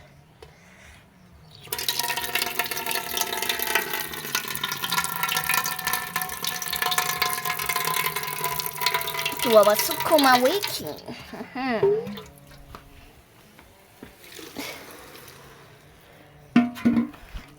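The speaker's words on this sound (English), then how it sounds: "Let's add some water." Water poured into a pot of sukuma wiki greens, a loud, steady splashing gush lasting several seconds and then trailing off into drips, close by, with a person talking over the end.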